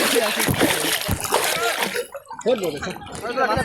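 Water splashing and sloshing in a swimming pool in Coochbehar, choppy bursts of splatter mixed with close, lively voices talking and shouting throughout.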